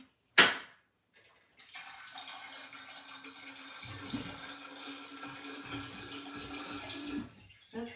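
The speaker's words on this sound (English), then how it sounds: "I'm going to heat some water." Water runs steadily from a tap into a vessel to be heated, a soft continuous rush lasting several seconds after a brief clatter at the start, fairly faint and close with no talking.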